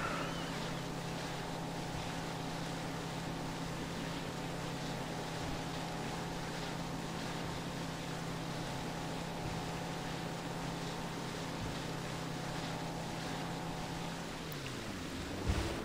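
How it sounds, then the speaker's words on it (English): Motorboat ride in the video game Far Cry 3, a steady droning engine with water and wind noise running continuously and fairly loud, then winding down at the very end. "interact with the boat and just take the boat over there"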